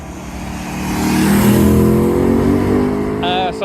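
A BMW E92 M3 with its V8 engine pulls hard under acceleration near Le Mans on a French road, the engine note swelling and rising steadily over a few seconds while wind rushes past.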